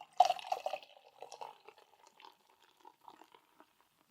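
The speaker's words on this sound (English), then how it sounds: "we're going to pour" Tiny Rebel Hop Hut Summer Slam IPA poured into a glass: a quiet close-up pour that starts with a sharp splash and bubbling, then thins to faint sparse fizzing and drips.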